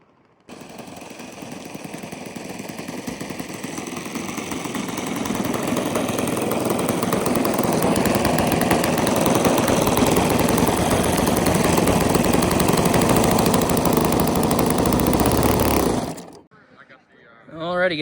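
A Hangar 9 Pulse XT60 RC plane's four-stroke engine drones steadily overhead in windy conditions, swelling in loudness over the first few seconds, holding a continuous buzzing roar, then cutting off abruptly near the end.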